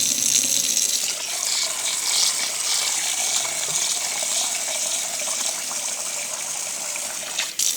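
Tap water runs steadily and loudly into a kitchen bowl as something is rinsed for cabbage rolls, filling and draining. The gushing continues without a break until a brief dip near the end.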